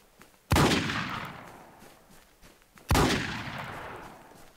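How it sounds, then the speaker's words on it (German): Two loud, close gunshots from a converted 9 mm pistol in the survival game Infestation: Survivor Stories (WarZ), spaced about two seconds apart, each with a long echoing decay. "ich habe jetzt so ein umgewandelte 9 mm. Hört ihr das mal an?"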